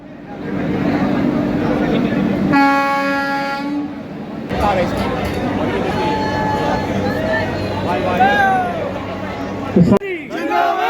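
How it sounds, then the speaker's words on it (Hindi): A Vande Bharat Express train sounds a long horn as it departs Ratangarh station, followed by rolling train noise under a loudly cheering and chanting crowd on the platform. "तो वंदे भारत एक्सप्रेस अब रतनगढ़ स्टेशन से जाती हुई"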